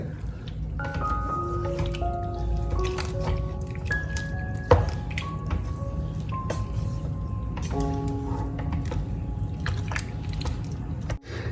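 Blended tapioca and coconut milk mixture stirred before heating, soft wet squishing and dripping sounds with faint clinks, steady and close, with no talking.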